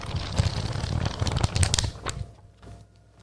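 A thick book of some 500 to 600 pages riffled through by hand, a close crackling paper flutter for about two seconds that slows into a few scattered page flicks before fading out.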